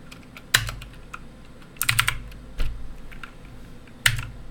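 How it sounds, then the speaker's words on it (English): Keys clack on an Aki mechanical computer keyboard in a few short bursts of crisp, close strokes separated by brief pauses, with no talking. "It is an awesome mechanical keyboard."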